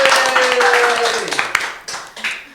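Applause for a band at a Radio Soekamti music broadcast: a short burst of clapping that fades under a host's ongoing talk.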